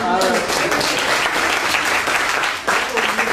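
A conference audience breaks into full applause, dense and loud clapping that holds steady for a few seconds, with a voice briefly audible at the start.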